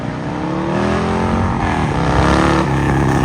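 Harley-Davidson Low Rider ST motorcycle accelerating hard from a standstill to sixty, a loud, close engine note climbing steadily through the revs without a break for the whole stretch.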